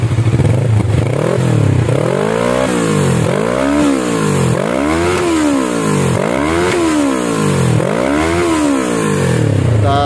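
A Kawasaki ER6N fitted with an Akrapovic exhaust revs repeatedly toward high rpm, the engine note rising and falling in a steady series of loud, close sweeps.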